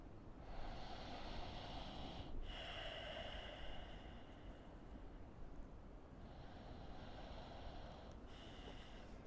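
Slow, deep breaths during a guided breathing exercise, two long airy inhale-exhale cycles with a soft breathy hiss, close and quiet, with no talking.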